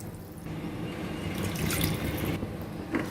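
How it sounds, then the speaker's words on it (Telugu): Water pours steadily onto rice in a pot for tomato rice, a continuous splashing rush, close and fairly loud, with no talking. "ఇప్పుడు ఇందులో నీళ్ళని యాడ్ చేసుకోవాలండి"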